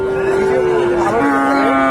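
A single long, loud moo from a Friesian bull close by, holding steady with a slight pitch drop partway through.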